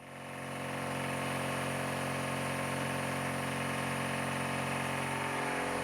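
An air compressor for workshop air tools starts up and settles into a loud, steady motor drone with a constant mechanical hum, running without a break.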